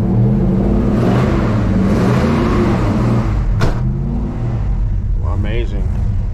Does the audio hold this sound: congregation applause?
no